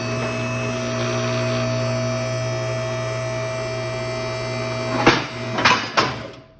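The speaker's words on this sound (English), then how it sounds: "Noise you hear are the safety locks." Steady hydraulic car hoist hum runs throughout, then near the end three or four sharp metallic clicks of its safety locks ring out in quick succession, loud and close.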